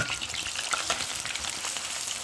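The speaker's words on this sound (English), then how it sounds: "And now I'll let it, my chilies, my onions all fry" Chilies and onions frying in a pan, a dense, close, crackling sizzle that holds steady throughout with light stirring scrapes.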